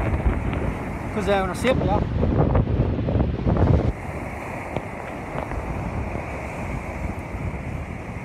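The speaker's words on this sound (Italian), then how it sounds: "C'è un vento stratosferico" Strong storm wind at the sea buffets the microphone with steady broadband roar and surf-like rush throughout, louder in the first half while someone speaks briefly over it.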